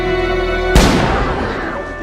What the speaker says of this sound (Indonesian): setelah melepaskan tembakan ke arah atas